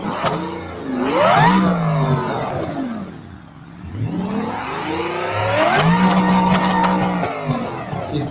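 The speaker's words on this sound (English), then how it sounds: "it's telling me I'm over revving the engine, but I'm not going anywhere" A car engine in a rock crawling video game revs hard and over-revs in long rising and falling sweeps. The engine note dips briefly midway and then climbs again, loud and unbroken, with no talking.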